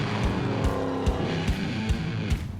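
An Underground Racing Lamborghini race car roars around a half-mile track, loud engine revving with repeated sharp shifts or bursts about every half second, tires squealing through the run.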